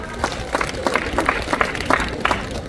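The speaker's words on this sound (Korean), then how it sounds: "후원해 주신 분들에게 다시 한번 힘찬 박수 부탁드립니다" A crowd at a neighborhood residents' festival in Daemyeong 6-dong claps for sponsors in quick, fairly regular bursts, a close, rhythmic patter of hands repeating about three times a second.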